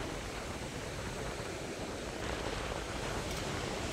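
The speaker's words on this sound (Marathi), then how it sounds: "हा असा समुद्र आहे इथे, किती छान वाटतोय." Sea waves at the coast near Kunkeshwar temple, a soft, even wash of surf blended with wind noise, steady and fairly faint throughout.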